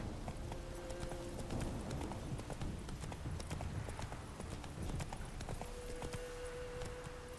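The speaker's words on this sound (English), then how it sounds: "I don't even think I even needed to hop on Roach for this" Horse hooves galloping in The Witcher 3: Wild Hunt, a rapid steady clip-clop rhythm close up, with game music tones layered over it.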